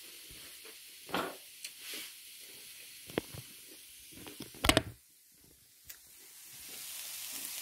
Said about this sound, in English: I'm going to cook it now like it was ground beef.